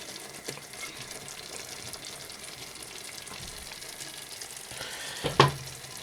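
Garam masala is stirred into rajma masala frying in a pan, giving a soft, steady sizzle with light scraping, and a sharper clatter near the end.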